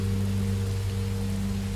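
Steady rain falls in the video game Minecraft Story Mode, a continuous even hiss of drops over a low constant hum, with no voices.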